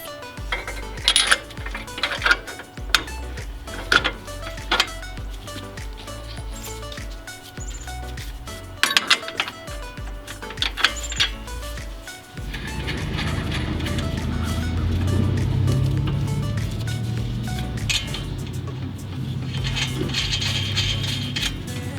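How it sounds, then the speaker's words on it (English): A bolt goes into the front lower control arm of a Toyota 86-type sports car on a scissor lift, heard as close metallic clinks and ratcheting clicks, then a steady whirring mechanical noise takes over. "now to put in the bolt"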